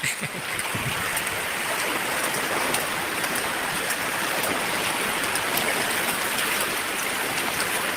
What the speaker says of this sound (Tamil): இதுதான் நம்ம ஆலோர் தோப்பு பாலத்தோட நிலமை எவ்வளோ அழகாக போகுது தண்ணி